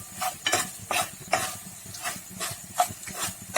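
Chicken masala sautéing in oil in a pan, cooked until the oil separates, for restaurant-style crispy chicken: steady close sizzle and hiss broken by repeated scraping stirs of a spoon, with no talking.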